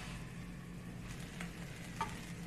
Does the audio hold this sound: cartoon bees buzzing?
no